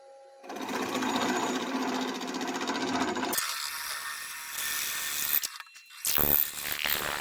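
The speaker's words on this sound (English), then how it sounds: "we're gonna go ahead and drill this" A power drill whirs steadily for a few seconds while drilling into a slide whistle, then its pitch drops and it stutters, stopping and starting in short bursts near the end.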